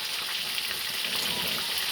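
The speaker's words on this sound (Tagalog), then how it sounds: "Nagpiprito ng isda." Steady, dense sizzling of fish frying in hot oil in a pan, a continuous crackling hiss close by with no talking.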